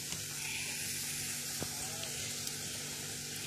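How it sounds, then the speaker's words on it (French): Oil poured into a hot, freshly dried pot sizzles with a steady, even hiss at moderate level, with a faint tick or two and no talk over it. "Je mets notre huile."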